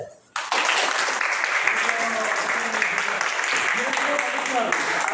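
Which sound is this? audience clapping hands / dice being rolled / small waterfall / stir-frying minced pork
audience clapping hands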